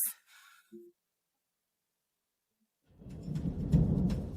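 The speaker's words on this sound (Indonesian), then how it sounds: "Ada badai di luar." Thunder from a storm outside, used as a sound effect in a dubbed drama: brief faint sounds at the start, near-silence, then a deep rolling rumble that swells and continues to the end.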